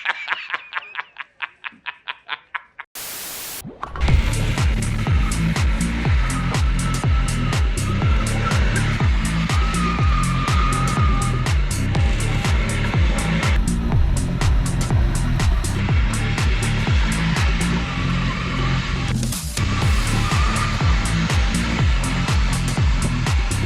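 A front-wheel-drive car drifts at sunset, its engine droning loud and continuous with rhythmic pulsing, tire noise and revving that rise and fall, after a brief quieter stretch at the start.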